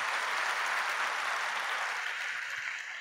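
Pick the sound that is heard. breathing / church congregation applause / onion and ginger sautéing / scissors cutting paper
church congregation applause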